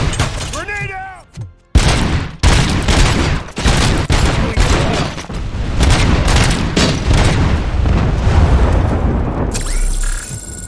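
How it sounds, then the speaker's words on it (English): A grenade explodes in the video game RoboCop: Rogue City with a loud, heavy boom, followed by a dense stretch of rapid gunfire and impacts, and a voice briefly calls out near the start. "Grenade out!"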